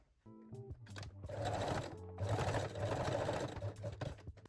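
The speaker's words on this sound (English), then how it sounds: "lock or backstitch all seams with the straight stitch" A sewing machine runs straight stitch along the seams of high-waist panties, a steady motor whir in two long bursts with a short pause between, close and fairly loud with no talk.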